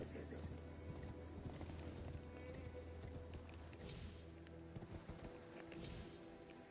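Rhythmic hoofbeats of a galloping horse in Elden Ring, a steady quiet clip-clop running throughout beneath game music and ambience, with a short whinny-like sound near the end.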